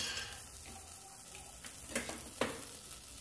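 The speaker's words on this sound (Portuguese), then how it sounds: "aqui na minha panela, eu vou adicionar 2 colheres de sopa de margarina" Margarine melts in a pan with a soft, steady sizzle, quiet and close, with a couple of light clicks of a utensil against the cookware.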